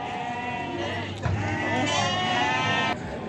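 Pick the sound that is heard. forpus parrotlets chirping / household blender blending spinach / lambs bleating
lambs bleating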